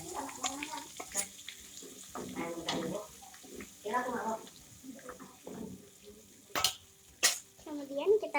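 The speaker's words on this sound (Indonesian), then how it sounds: "Selanjutnya ini akan kita tumis ke dalam minyak yang panas." Blended chili paste for spicy squid sambal sautéing in hot oil, soft sizzling and stirring scrapes that come and go beneath someone talking, with a few sharp clatters near the end.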